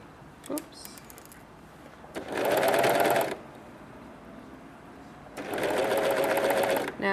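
A Pfaff Coverlock 3.0 coverstitch machine hems a sleeve, running in two fast, rattling bursts of about a second each, separated by quiet pauses with faint handling clicks.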